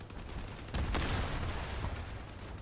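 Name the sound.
machine gun firing in the video game Crossout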